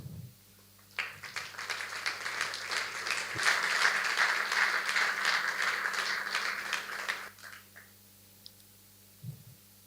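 At the final evening of an eloquence contest, an audience gives a round of applause that swells in after a quiet moment, holds thick and steady for several seconds, then fades out over a low constant hum.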